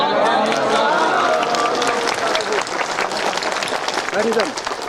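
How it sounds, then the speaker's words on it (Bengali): A crowd at a Rohingya refugee camp gathering applauds with loud, dense clapping that continues steadily for several seconds, mixed with voices and crowd murmur. "জোরে হাততালি দিন।"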